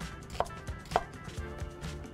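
A knife slices an onion into thin strips on a cutting board, giving two crisp distinct chops among softer cutting sounds, close and fairly quiet.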